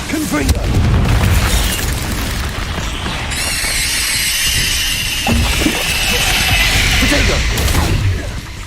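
Repeated Confringo explosive spells burst in the Hogwarts Legacy video game. Heavy booms and crashes come close and loud, with a shimmering magical crackle over the middle, and a voice speaks at times among the blasts.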